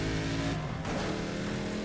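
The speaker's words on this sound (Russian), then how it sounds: "Вот звук. Нормальный звук мотора. Как и был." Steady car engine drone from the racing game Need for Speed ProStreet, loud and continuous with a brief dip midway, no talk over it.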